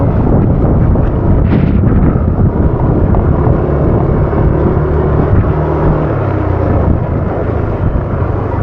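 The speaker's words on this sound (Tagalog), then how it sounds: "malakas ang hangin dito" Strong wind gusting across an open outdoor spot in the rain in Alakal, roaring as a loud, steady broadband rush that buffets the microphone for the whole stretch, with no voices.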